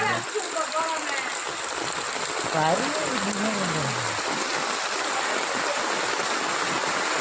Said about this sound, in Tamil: மறுபடியும் மழை வந்துடுச்சு.